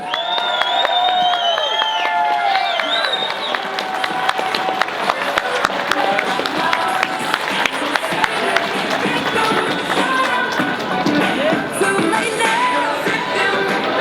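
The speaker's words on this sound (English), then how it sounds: "another round of applause for Derek Sloan." Crowd applause and cheering at a rally held in a museum, dense steady clapping filling the whole stretch with a few whistles and shouts mixed in, loud and continuous.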